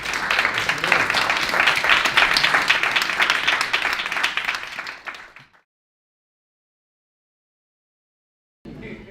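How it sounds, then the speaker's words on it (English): Sustained applause from a crowd for performers at a women's retreat, dense clapping that fades out after about five seconds, followed by silence before a brief burst of sound returns. "Let's give them all a round of applause."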